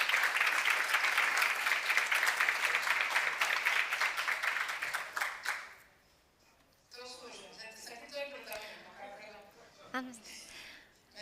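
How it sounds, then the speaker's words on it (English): Audience applause at an SSIG 2024 event session, a dense, loud round of clapping for about six seconds that fades out, followed by quieter room noise and a speaker talking. "Oscar, a round of applause."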